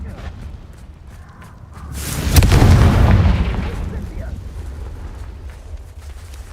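A Confringo spell from the video game Hogwarts Legacy detonates as a single loud, booming burst in the middle, swelling into a rumble and then fading, with a voice calling out over the action.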